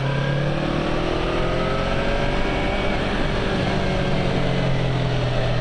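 A Yamaha MT-25 motorcycle rides in third gear at low revs, its engine giving a loud, continuous steady drone with a slight rise and fall in pitch and constant wind rush throughout.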